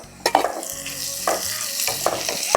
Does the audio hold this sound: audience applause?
no